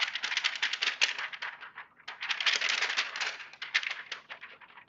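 Rapid, rattling rustles of paper being shaken in quick bursts, with a short pause midway before the shaking resumes, close and crisp.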